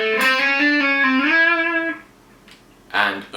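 Distorted electric guitar plays a fast ascending legato lick, clear sustained notes stepping upward for about two seconds, then a brief pause before another bright burst.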